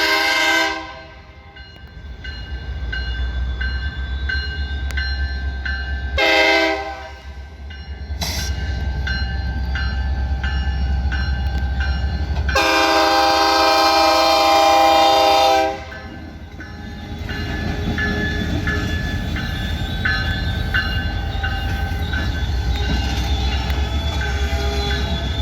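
BNSF lumber train on the Lafayette Branch rolling through a railroad crossing, loud horn blasts sounding repeatedly over the steady rumble and rail clatter of cars passing close by.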